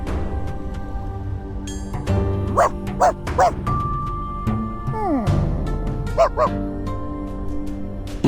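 A puppy barks in the video game Reverse1999, several short yappy barks and a whimper scattered over a sustained musical background, no speech.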